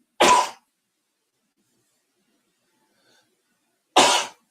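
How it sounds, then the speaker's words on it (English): Two sharp, loud sneezes from one person with several seconds of silence between them, each short and explosive, heard alone. "fixing to sneeze, so hold on, everybody."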